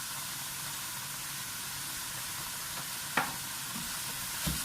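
Onions and beef mince fry in a pan with a faint, steady sizzle, broken by a couple of brief clatters from stirring, and no talking.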